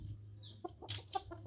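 A young chicken with black legs clucks a few short, close notes over a low steady hum, with no talking.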